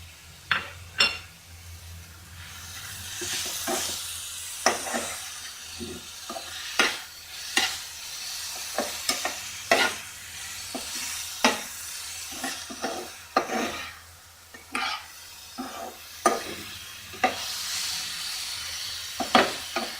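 Chicken samosa filling with tomatoes sizzles steadily in a pan while a spoon stirs it in repeated scraping, knocking strokes, close and moderately loud, with a faint low hum underneath.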